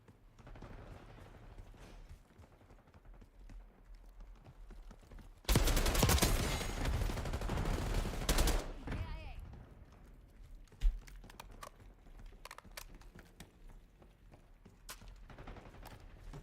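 Shotgun fire in the video game Call of Duty: Black Ops 6, a loud roughly three-second burst of blasts standing out from the quieter game sounds, followed later by a single sharp shot.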